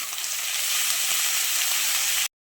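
Onion paste, ginger-garlic, green chilli and tomato paste fry in a hot pan for an egg curry, giving a loud, steady, close sizzle that cuts off abruptly.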